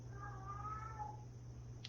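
A house cat meows in the background, a drawn-out, wavering call in the first second or so, faint and somewhat distant, followed by quiet room tone.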